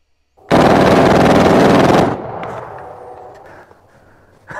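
A gun fires a long rapid burst of full-auto shots at close range for about a second and a half, then a fading echoing tail and a faint rattle, with no talking.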